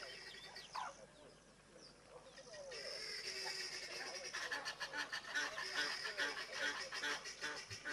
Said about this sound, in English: Got a lot of noisy helmeted guinea fowl.